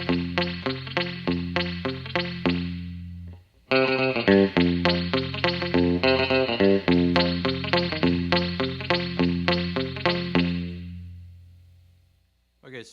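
Electric guitar played Luther Perkins style through reverb with the dampener on, clipped twangy picked notes in a steady boom-chicka rhythm, a short gap, then more picking that fades out with a lingering tail.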